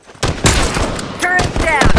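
Machine gun turret fire in The Last of Us multiplayer comes as loud, dense bursts of rapid shots over about two seconds, with some game sounds mixed in.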